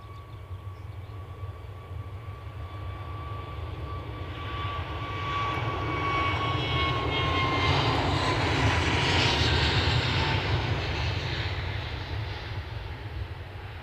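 United Airlines jet engines at Edinburgh Airport, a continuous powerful roar with a faint whining tone that swells to a peak midway and then eases slightly.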